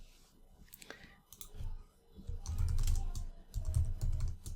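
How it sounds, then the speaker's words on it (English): Rapid clicking of keys on a computer keyboard as words are typed, irregular bursts of close, light taps with brief pauses between them. "I'm just typing the words test text."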